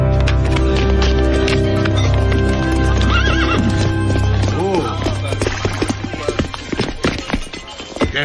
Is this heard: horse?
yes